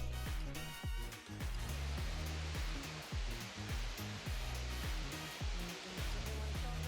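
Steady roaring rush of falling water from a waterfall in Switzerland, loud and broadband, continuing without a break throughout.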